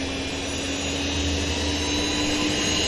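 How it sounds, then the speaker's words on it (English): Whisper Jet airliner engines spooling up at an airport, a steady broad roar with a constant hum and a high whine held at even loudness throughout, with no talk. "The Whisper Jet has started to whisper."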